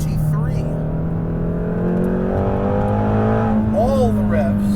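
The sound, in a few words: Ford Mustang GT350R engine revving to the red line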